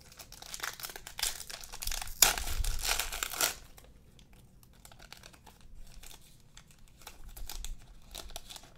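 Panini Contenders football card pack wrapper being torn and crinkled open up close, several sharp bursts of crisp foil crackling with a loud rip in the middle, then quieter rustling of cards.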